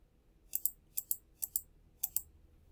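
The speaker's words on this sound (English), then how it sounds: "So I'll just click right here, click this emoji" Computer mouse clicks while creating emojis online, sharp crisp clicks in close pairs, about seven taps in uneven groups, near and alone against a quiet background.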